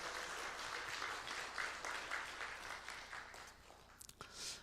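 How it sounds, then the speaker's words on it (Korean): A church congregation at a Korean revival service claps together in sustained applause, an even wash of many hands that fades with a few final claps. "하나님께 영광의 박수 올려드립니다."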